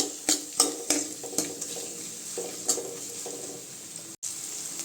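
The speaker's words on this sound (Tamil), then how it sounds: "வெங்காயம் நல்லா வதங்கி வச்சுங்க பாருங்கள் வெங்காயம் நல்லா இந்த அளவுக்கு வணங்கிடுச்சுங்க இப்போ இஞ்சி பூண்டு பேஸ்ட் சேர்த்துக்கலாங்க" Ginger-garlic paste fries with softened onions in a pan for Tamil egg curry, a low steady sizzle punctuated by several sharp clinks and scrapes of a spoon against the pan, no talking.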